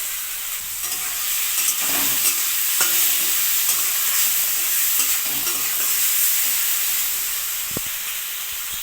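Salt and turmeric stirred through hot oil in a pan for a taro-leaf dish, a steady sizzle running throughout with soft scraping strokes of a spoon, close and even.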